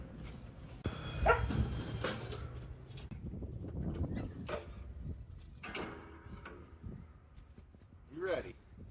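Dogs bark in a home as a family gets ready for a car ride, with a few sharp barks scattered over close, ongoing talk and household movement.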